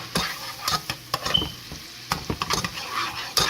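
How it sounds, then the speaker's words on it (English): Garlic cooking in melted butter in a pan, with stirring scrapes and soft sizzling in short bursts close by, no voices. "I'm just gonna let the garlic in the butter for like 2 minutes"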